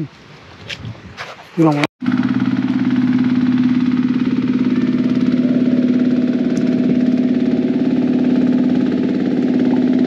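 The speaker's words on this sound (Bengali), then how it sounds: "মাছ ধরার ট্রলার। এরা গভীর সমুদ্র থেকে মাছ ধরে এখন আবার ফিরে যাচ্ছে সমুদ্র তীরে।" A fishing trawler's engine on the Naf River settles into a loud, steady idling drone with a strong low hum that runs unbroken for about eight seconds, after brief voices and a sharp knock at the start.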